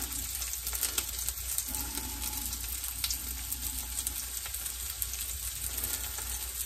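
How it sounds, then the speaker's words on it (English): Cheese sizzling directly on a hot waffle griddle, a steady close crackling fry that holds throughout with small pops. "I put the cheese on the griddle itself, on the waffle griddle, because it just does better"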